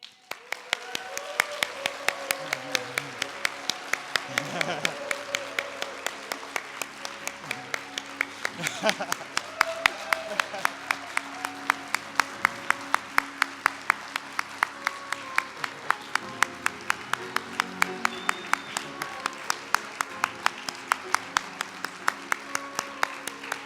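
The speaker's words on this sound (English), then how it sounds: "we need to do one more big round of applause for our hosts" Applause rings out for the hosts at the HTAi 2025 closing ceremony, a long, steady round of many hands clapping that holds its level throughout, with what sounds like a rhythmic clap or tap running through it.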